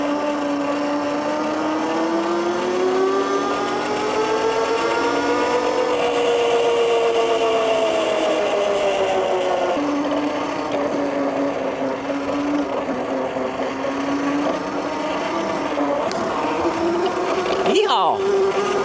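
A MEGAWHEELS D2 electric dirt bike motor running as a steady whining electric hum that shifts pitch with speed, continuous and fairly loud, ending in a brief rustle.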